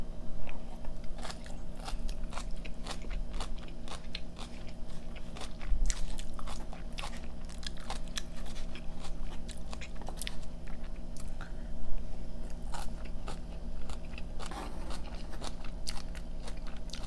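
Crunchy chicken wings being bitten and chewed close up, with repeated sharp crackling bites over steady chewing at an even pace, no talking.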